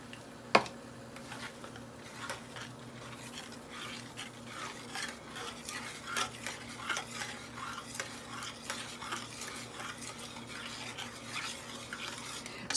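A spoon stirs milk gravy in a pan at close range, producing soft, repeated scraping and swishing strokes under a low steady kitchen hum.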